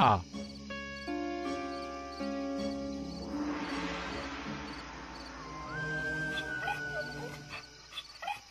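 Hungry mother dog crying and whimpering in a cartoon, with high tonal whines and yelps rising and falling over a music bed, while characters talk over it.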